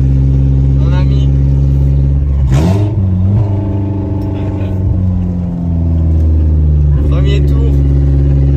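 A BMW E30 engine idles and runs with a steady low droning rumble, rising in a brief rev, while someone talks over it.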